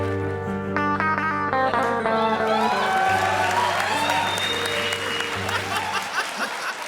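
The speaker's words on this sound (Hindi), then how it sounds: "जोरदार तालियां।" Loud, sustained applause from a comedy show's studio audience, steady clapping with a few whoops and laughs, running the whole stretch beneath a held musical tone.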